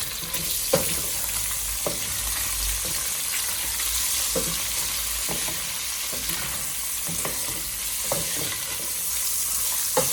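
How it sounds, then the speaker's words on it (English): Bacon frying in a soup pot for a Zuppa Toscana copycat, a continuous close sizzle with regular clacks and scrapes of a utensil stirring it, no voices. "I'm going to toast up the bacon a little more"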